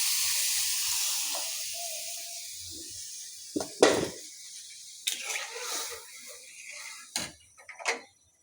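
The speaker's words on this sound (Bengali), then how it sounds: "পানি দিয়ে দিয়েছি, পুরো পানি, ডালটা সেদ্ধ হওয়ার জন্য।" Water poured into a hot pan of boot dal lentils cooking with goat meat gives a loud hissing sizzle that fades away, followed by scattered clinks and scrapes of utensils in the pan.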